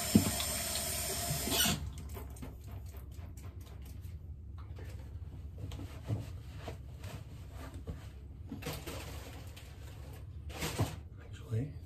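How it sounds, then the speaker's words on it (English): A tap briefly gushes loudly into a sink at the start, then stops and leaves quiet room sound, soft handling clatter and short splashes, with another brief run of water near the end. "turn on the hot water for a second"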